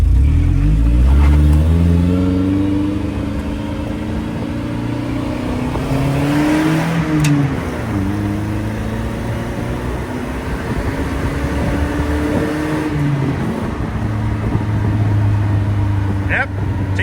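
A vehicle engine burning old fuel pulls away on a street, revving loud and close with a steady drone that climbs through the gears in rising sweeps for most of the stretch.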